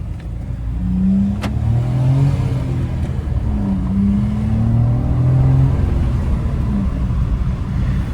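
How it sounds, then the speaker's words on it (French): A Fiat 500 engine accelerating while driving, rising revs through gear changes, loud and close with a steady road rumble underneath. "on va aller rouler avec la voiture, voilà, attention, sonorité sportive"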